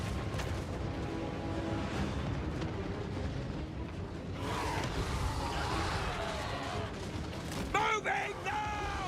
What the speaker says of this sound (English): We're getting some gunshots down here.